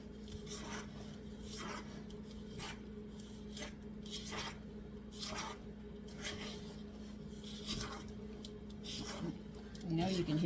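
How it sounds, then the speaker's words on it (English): A spatula scraping the sides of a mixing bowl while folding raspberry muffin batter, a steady rhythmic rasping in repeated strokes, close and soft beneath a low background hum. "I know you can hear the bowl scraping"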